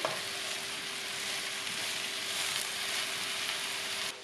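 Mushrooms fry in a pan and get stirred, a steady bright sizzle holding evenly throughout, close and alone, with a faint steady hum under it.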